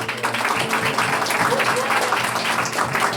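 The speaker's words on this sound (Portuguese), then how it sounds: "Uma salva de palmas para Jesus." A church congregation applauds steadily at a thanksgiving service marking the laying of a new temple's foundation stone, a dense wash of clapping that holds at an even level throughout with no distinct voice standing out.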